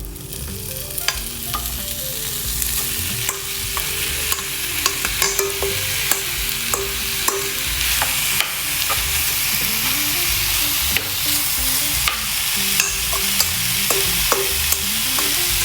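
Thin marinated steak frying in olive oil and being stirred in the pan: a steady loud sizzle with frequent sharp utensil scrapes and clicks throughout, and no talking.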